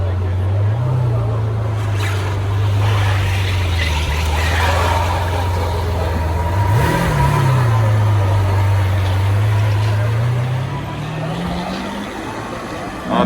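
A Lamborghini Aventador 50th Anniversary edition idles with a deep, loud burble after coming down off a lift, its revs swelling briefly twice before settling back into a steady rumble.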